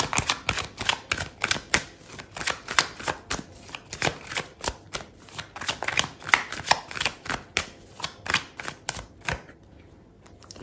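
Tarot cards are riffled and shuffled close up in a rapid, steady run of crisp slaps and flutters lasting several seconds. The shuffling thins out near the end, where a single card is drawn in near quiet.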